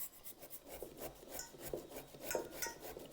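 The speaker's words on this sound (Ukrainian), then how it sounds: "Натираємо кабачок цукіні на тертку." Zucchini being grated on a hand grater, a quiet rhythmic rasping of repeated strokes, close and faint, with no talk.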